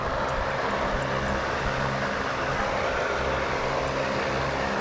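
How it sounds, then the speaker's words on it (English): A large shop fan drones with a loud, steady whirring roar and a low pulsing hum, constant throughout. "There's said giant shop fan."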